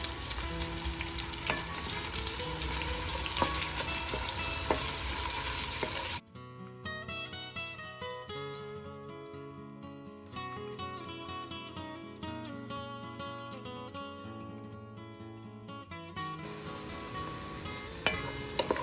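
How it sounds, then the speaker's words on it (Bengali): Onions fry to golden brown in a pan for chicken haleem, a loud, dense crackling sizzle close by that drops away partway through while music plays, then the sizzle returns near the end, with no talk. "হালিম রান্নার পেঁয়াজগুলো এখন আমি গোল্ডেন ব্রাউন করে ভেজে নিচ্ছি।"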